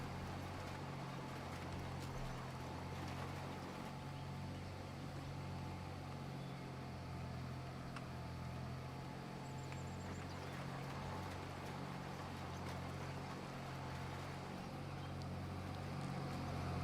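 A tractor in the video game Farming Simulator 25 runs with a steady, low droning engine rumble that holds constant throughout, moderately loud and with no voices.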